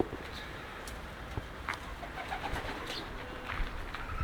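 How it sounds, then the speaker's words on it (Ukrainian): Pouter pigeons coo softly and repeatedly against a steady background hum, with no talking. "Вон вони, можна бачити, дутиші, сваряться, щось там вони спорять між собою."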